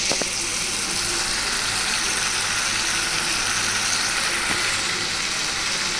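Small tengra fish going into a pan of simmering tomato curry, a dense, steady sizzle and bubbling that stays loud and even throughout, with a couple of faint clinks near the start.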